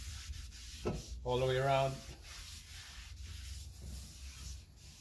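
A clean rag wiped with brake cleaner around front brake parts on a Subaru Legacy gives soft rubbing and scrubbing strokes, with one louder, harsher swipe near the middle, all beneath a man's brief speech.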